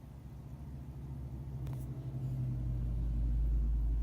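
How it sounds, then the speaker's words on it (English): Truck rumbling past outside, a low engine drone that swells louder toward the end, heard from indoors with no talking. "I really wish that truck would get a flat tire. Can't tell you how annoying that truck is in the morning."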